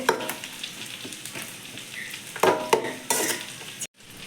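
Blended tomato poured into a hot pan for rice kabsa, sizzling steadily while a utensil scrapes and knocks against the pan in irregular strokes, then cutting off abruptly.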